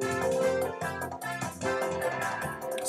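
An unmixed Afrobeat song verse pulses with rhythmic, busy percussion, punchy brass stabs and electric piano chords, playing steadily and densely throughout with no voices.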